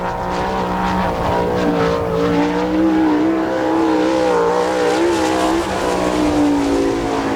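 Sprint car at Attica, Ohio, the 27G, screaming through an All Star Circuit of Champions qualifying lap, a loud, continuous high engine wail that rises and falls in pitch as it works around the track.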